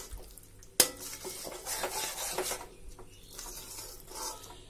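Vinegar being stirred into an eggplant pickle in a pot, heard as soft scraping and stirring with an early sharp clink of a utensil against the vessel, fairly quiet and close.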